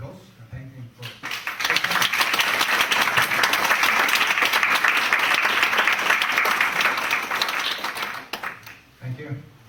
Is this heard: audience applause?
yes